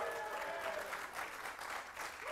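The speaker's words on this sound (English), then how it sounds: "Guys, come on, that's worth a clap." Applause from the audience at an esports tournament's group-stage finals, a steady wash of clapping that is fairly faint and continuous with a hint of voices under it.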